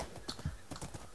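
Horse hooves clip-clop in a video game, a quick run of light, rhythmic hoof beats close up with no talking.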